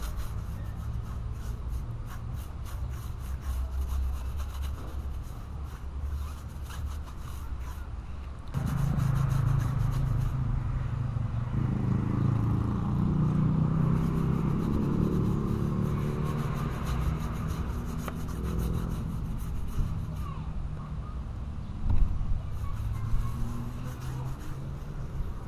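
Homemade tire shine being rubbed onto a car's tires, a steady close scrubbing and rasping that grows louder and busier partway through, with no talking.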